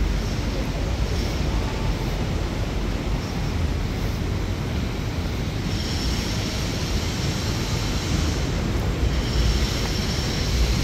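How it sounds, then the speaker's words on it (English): Steady, strong wind on Fifth Avenue in New York City buffets the microphone with a continuous roaring rush, broad and unbroken throughout, with no voices. "It's windy on Fifth Ave."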